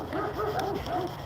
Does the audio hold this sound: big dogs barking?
yes